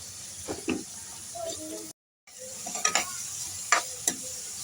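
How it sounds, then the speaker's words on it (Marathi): Mustard seeds, cumin and a pinch of asafoetida sizzle in hot oil for a Marathi spinach dish, with a soft crackle and a few stirring scrapes; the sound is fairly quiet and breaks off briefly partway through. "आता मी इथे थोडीशी राई, 1 चमचा जिरं आणि जरासं हिंग टाकणार आहे।"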